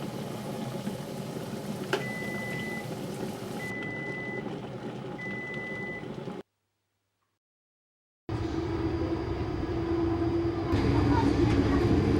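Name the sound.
train arriving at platform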